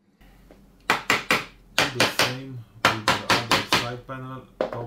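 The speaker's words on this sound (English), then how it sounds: "use a hammer to put it in place and then tighten the screws." Sharp hammer blows knocking a panel of a freETarget target kit into place, three groups of three to four quick ringing strikes, close and loud, with no talk.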